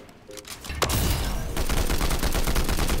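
Combat Assault Rifle fire in Fortnite: after a few faint shots, a loud sustained burst of rapid gunfire begins and keeps going close up until the end.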